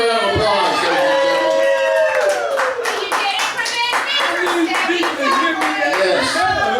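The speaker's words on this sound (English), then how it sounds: "Give him another round of applause." Clapping and cheering from an audience at a lively stage show, dense hand claps running through with whoops and excited voices layered over them, loud and close.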